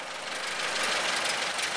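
A 1931 Ford Model A engine runs steadily with a smooth, close, continuous rasp, idling evenly without a change in pace.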